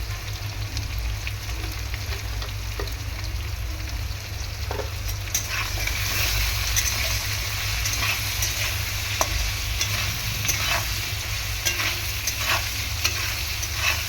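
Pieces of silver carp fry in hot oil with a steady, dense sizzle and crackle, stirring scrapes and spatula taps rising through it, close and constant with no voices.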